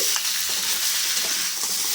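Goat meat sizzles loudly in a pan with ground spice paste and turmeric while being stirred for a rich red curry, continuous frying hiss with occasional scraping strokes, no voices.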